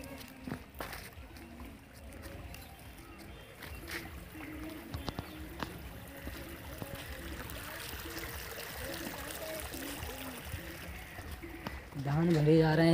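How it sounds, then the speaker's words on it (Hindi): Water from a submersible pump flows steadily into a paddy field outdoors, a soft continuous rushing trickle under someone speaking, with a louder surge near the end. "धान भरे जा रहे हैं, यहाँ पर पानी चल रहा है समरसेबल का।"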